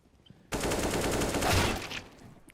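Sustained automatic gunfire in Counter-Strike on the Nuke map, likely an AK spraying, a loud continuous burst lasting about one and a half seconds before cutting off.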